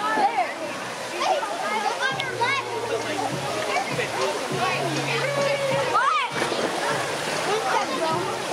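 A waterfall splashing on a lazy river ride at Harrah's San Diego Rincon, a steady rushing wash of water throughout, with excited voices and chatter over it.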